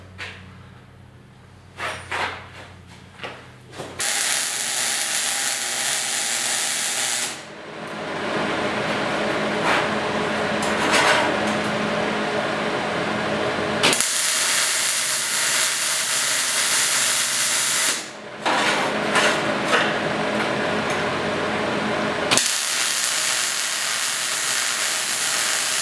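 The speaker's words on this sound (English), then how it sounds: "So let's weld her up." Welding a seam on a metal dust collection port for a SawStop table saw, a steady crackling hiss that runs in long loud bursts with brief pauses between them.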